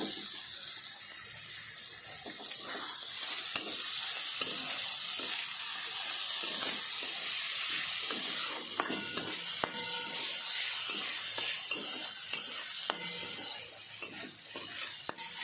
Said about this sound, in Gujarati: આ રીતે શેકાઈ જાય એટલે એમાં ડુંગળી આપણે નાખી દઈશું